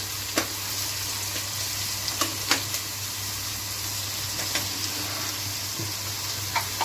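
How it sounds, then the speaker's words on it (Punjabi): Onions frying in a pan with garlic for a Punjabi kaddu vadiyan dish, a steady close sizzle broken by occasional sharp clicks of a spatula against the pan, with no voices. "ਹੁਣ ਪਿਆਜ਼ ਨੂੰ ਪਕਾਵਾਂਗੇ ਆਪਾਂ"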